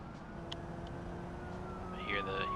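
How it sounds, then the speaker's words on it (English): Police car siren in the BeamNG driving game, a faint wail rising near the end over a steady engine drone and background noise. "I hear the sirens."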